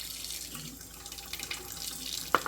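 Warm water runs from a tap into a plastic food-storage bowl, a soft continuous flow heard close up and alone, with a brief sharp knock near the end.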